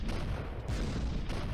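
A tank fires a shot in the artillery video game Shellshock Live 2, a dense, booming blast that fills the short moment at steady loudness with no talking over it.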